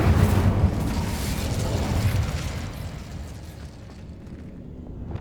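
An Incendio fire spell cast in Hogwarts Legacy, a fiery whooshing burst that starts loud and trails off over a few seconds, heard alone.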